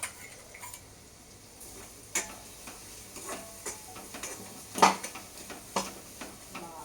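Ground masala paste being sautéed in a pan, quiet sizzling under repeated sharp scrapes and taps of a spoon against the pan, irregularly spaced, with one louder clatter midway.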